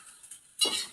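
Fried rice is stirred in a frying pan, a faint quiet moment followed by a sudden close scraping stir with a soft sizzle.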